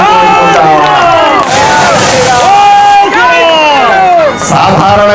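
A large crowd at a temple inauguration event cheers and claps loudly and continuously, with shouting voices and dense babble rising and falling throughout.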